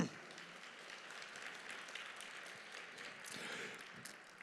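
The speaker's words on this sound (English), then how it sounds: "Can we give them a round of applause?" Faint, distant applause from a keynote audience at a digital conference makes a steady hissing wash of many hands that swells slightly midway before trailing off.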